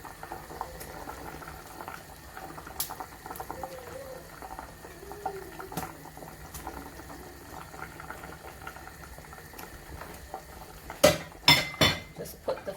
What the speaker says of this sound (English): So the curry's come to a rolling boil.